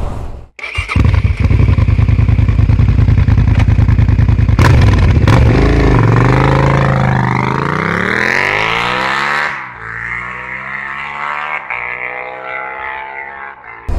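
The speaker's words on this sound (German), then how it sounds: "Heute geht es um ein ganz besonderes Thema und zwar um einen wunderschönen Auspuff und zwar um den Cobra" A Suzuki SV 650 motorcycle with a Cobra SC3 exhaust starts, then idles loudly up close and revs hard with a rising and falling roar. It drops back to a lumpy idle.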